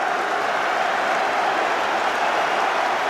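A football crowd at the Stoke versus Bolton semi-final applauds. It is a steady, broad roar of distant clapping that holds even throughout, with no clear voice on top.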